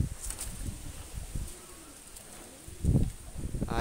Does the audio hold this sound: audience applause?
no